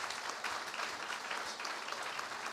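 Audience applause at a church service in Barakaldo, steady dense clapping from a crowd that fills the whole stretch without pause.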